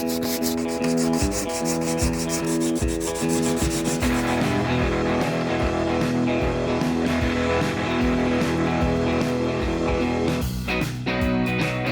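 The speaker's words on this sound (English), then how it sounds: "time to break out the sandpaper" Sandpaper rubs back and forth over fiberglass during a camper shell hinge repair, in steady rhythmic strokes that are close and fairly loud, with no voices.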